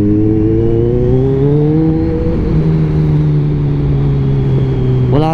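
A Kawasaki Z1000 motorcycle with a single exhaust revs loud and close, a steady throaty engine note that climbs gradually before a sharp blip at the end.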